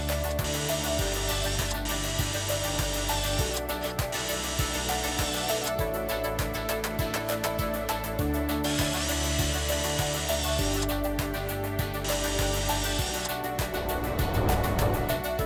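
A power drill screwing on the slide rails of a vertical roll-up mosquito screen, with loud continuous whirring bursts, short pauses and pitch changes over a background of music, and no talking.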